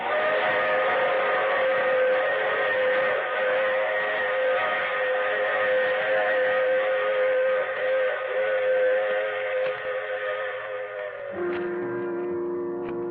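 A train rolls along with a steady rumble while a long, sustained steam whistle sounds over it, loud and continuous, with a shift in tone near the end.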